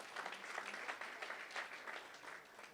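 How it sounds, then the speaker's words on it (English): At a university sports awards gala, the audience breaks into a short round of applause, a full crowd clapping in a lively, slightly pulsing wash that tapers at the close. "round of applause please"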